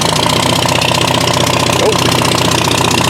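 A Farmall tractor engine runs at a steady idle, a loud, close, even chugging throb that holds for the whole stretch, with one brief spoken word over it.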